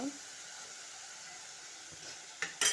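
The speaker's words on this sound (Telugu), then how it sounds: "బీరకాయలతో మొత్తము ఇలా నూనెలో కోలిపోవాలన్నమాట" Chopped ridge gourd fries in hot oil in a home kitchen, giving a soft, steady sizzle with a couple of sharp clinks near the end.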